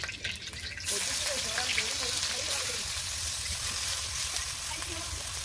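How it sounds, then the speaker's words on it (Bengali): Sliced onions hit plenty of hot oil for crispy beresta for chicken biryani. A steady, broad sizzle starts abruptly about a second in and carries on evenly, with faint talk at times. "বেরেস্তা ভাজার জন্য আমি তেল দিয়ে দিচ্ছি।"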